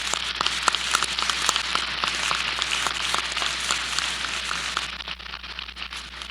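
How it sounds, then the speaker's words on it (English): An audience at a spring business school graduation ceremony applauds steadily, a dense patter of clapping at moderate distance that thins slightly toward the end, with no talking over it. "why not give them a round of applause?"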